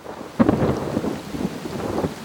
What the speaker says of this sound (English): The wind howls, the rain slams down, the world dissolves into streaks of water and headlights.